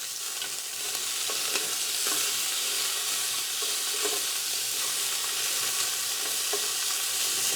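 Rack of lamb searing in a hot pan, sizzling and spitting continuously with small pops, growing louder after the first second, no talk.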